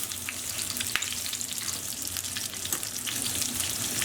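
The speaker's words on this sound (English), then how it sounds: "all we're doing to our shanks is browning them on all sides" Lamb shanks browning two at a time in a frying pan give off a steady, dense sizzle with scattered crackles and pops, loud and close, continuing without pause and with no voices.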